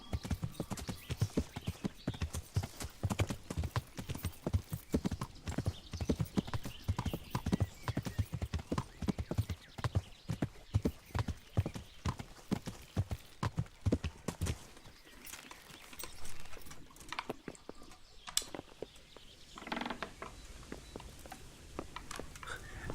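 Horse hooves clip-clop steadily at a walking pace in the medieval role-playing video game Kingdom Come: Deliverance, close and rhythmic, with a brief whinny and the footfalls thinning out later on.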